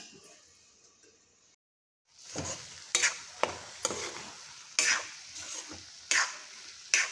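Potato bhaji steaming in a covered pan over a low gas flame, a soft sizzle with repeated scraping stirs at a slow, uneven rhythm, close and fairly loud after a brief pause of near silence.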